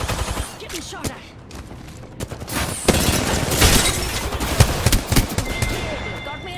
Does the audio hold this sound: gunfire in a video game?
yes